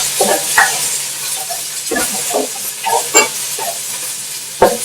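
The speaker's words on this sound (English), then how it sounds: "Let's add the rest of the garlic into our pan. The other chopped onion." Garlic and chopped onion sizzle steadily in a hot pan for Filipino pork belly adobo, a loud, close, continuous frying hiss broken by scattered stirring scrapes and clinks.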